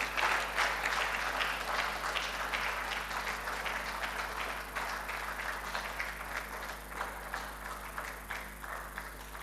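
Sustained audience applause at the investiture ceremony of a college president, a dense wash of many hands clapping that holds steady throughout, slightly fading toward the end, with no talk over it.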